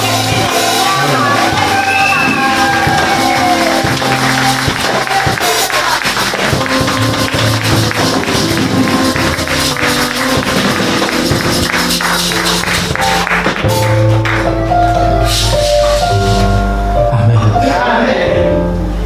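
A church congregation at a convention cheers and acclaims loudly, a dense crowd of shouts, whoops, claps and voices. Music or amplified sound runs underneath throughout.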